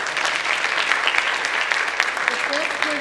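Applause from an audience honoring AVID students at a scholarship awards ceremony, a dense steady patter of many hands clapping throughout, fairly close and even in loudness.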